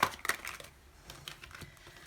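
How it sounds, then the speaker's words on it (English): Tarot cards being shuffled by hand, with a crisp burst of riffling and slapping at the start, then softer scattered card rustles and taps close by, no talking. "One more shuffle. I feel like they need to be shuffled."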